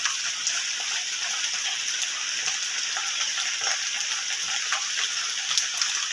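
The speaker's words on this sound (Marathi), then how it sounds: "पाऊस परत चालू झालो आहे" Steady rain falls continuously, a dense hiss with scattered drop ticks throughout, fairly close and even in level, with no talking.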